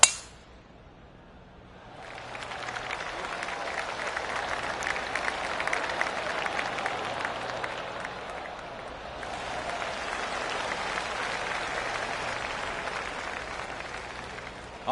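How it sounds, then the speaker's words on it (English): Spectator applause from a golf gallery in PGA Tour 2K25 at Royal Portrush, rising after a quiet start into steady, moderately distant clapping that swells, dips briefly, then resumes with no talk. "I can hear the golf claps around the course"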